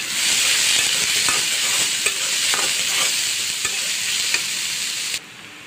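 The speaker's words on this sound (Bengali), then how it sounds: "তো আমি ওই তেলের সঙ্গে আমি পেঁয়াজ কুচাগুলো দিয়ে দিব" Chopped onions hit hot oil left from frying fish for a fish bhuna and sizzle steadily and close, with light stirring clicks. The sizzle drops off abruptly near the end.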